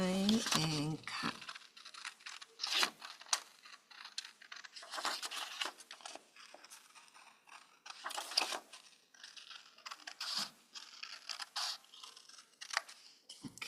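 Scissors snip and rustle through a printed paper template, with short crisp cuts and crinkling paper scattered across the stretch, fairly close and quiet, while someone talks intermittently.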